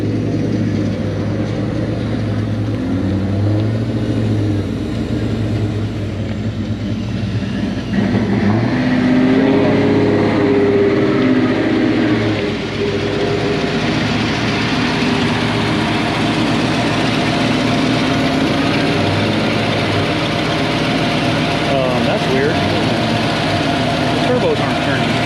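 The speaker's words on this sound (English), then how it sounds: "Got it idling nice and smooth" A yellow truck's engine idles steadily with a smooth low rumble, held close and constant throughout with faint voices in the background.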